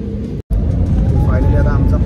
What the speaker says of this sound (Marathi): फायनली आता आमचा प्लेन फ्लाय होईल